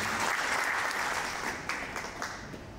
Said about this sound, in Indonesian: Tepuk tangan buat mereka semua.